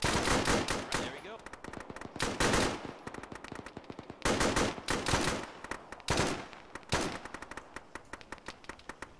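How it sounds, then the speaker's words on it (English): Heavy gunfire in a military video game, with loud bursts of automatic fire and rapid repeated shots that come in clusters and stay close and dominant throughout. "There's a guy shooting from the right bunker on the left side of it."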